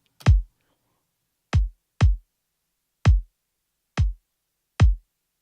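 Six deep, punchy kick drum hits with boomy low tails, spaced irregularly with silence between them, played alone.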